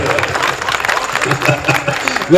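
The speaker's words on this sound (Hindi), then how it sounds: "नहीं भाई सबने ताली बजाई" An audience at a Hindi stand-up comedy show bursts into applause, a dense burst of many hands clapping mixed with crowd noise and a voice talking over it, lasting the full stretch and rising slightly at the end.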